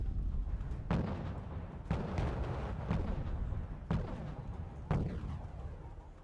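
Artillery shelling a town in the strategy game Wargame: Red Dragon, with six heavy booming shots landing about one second apart, each a sharp blast decaying into rumble over a constant low battle din.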